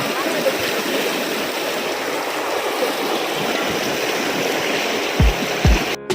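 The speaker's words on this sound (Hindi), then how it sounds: "तो ये है अमर गंगा नदी।" The Amar Ganga river on the Amarnath Yatra trail from Baltal toward the Holy Cave gives a loud, steady roar of rushing mountain water. The broad hiss holds constant throughout, with a couple of faint thumps near the end.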